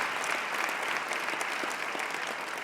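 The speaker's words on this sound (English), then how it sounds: "we should all give them another round of applause right now" A graduation audience gives the teachers a steady round of applause, many hands clapping in a dense, even wash that sounds moderately distant.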